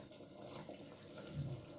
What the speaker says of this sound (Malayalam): നമുക്ക് തൻപാൽ ഒഴിക്കാം